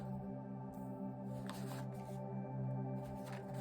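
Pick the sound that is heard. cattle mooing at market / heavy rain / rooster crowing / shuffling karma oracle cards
shuffling karma oracle cards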